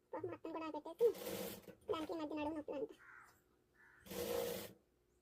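A sewing machine stitches the folded armhole seam of a silk pattu peplum blouse for a child, running in two short bursts between stretches of someone talking nearby.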